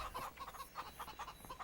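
Chickens in Farming Simulator 25 clucking in quick repeated bursts, faint and rhythmic, with no talk over them.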